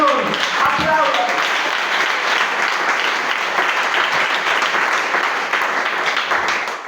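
A church congregation bursts into sustained applause during a Spanish-language sermon, dense loud clapping that fills the space steadily for several seconds, with voices mixed underneath.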